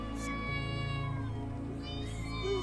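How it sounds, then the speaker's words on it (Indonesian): Several cats yowl and meow in long, drawn-out wails while attacking a man, the cries overlapping and sustained at moderate loudness with no talk. "kucing-kucing itu kenapa nyerang orang itu"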